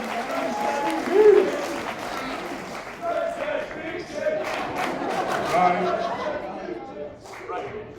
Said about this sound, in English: So, round of applause there, please.